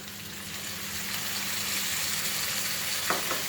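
Chopped banana blossom stir-frying in a pan with curry leaves gives off a steady, even sizzle, continuous and moderately close, with a faint stirring scrape near the end.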